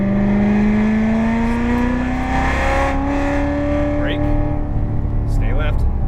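A Corvette Z06 engine pulls hard on throttle around a racetrack, a loud steady in-car drone with pitch climbing through the gears and a shift, while a voice talks over it.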